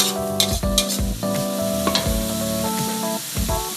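Spicy snakehead fish stir-fried in a hot pan, loud close sizzling hiss with repeated sharp scrapes and clanks of the spatula, and no voices.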